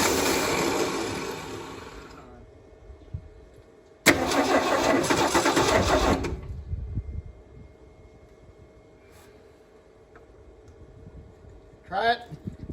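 A 1978 Ford F-150 engine, left sitting for 28 years, cranks loudly in two separate attempts of about two seconds each without catching, followed by quieter background noise and a brief squeak near the end.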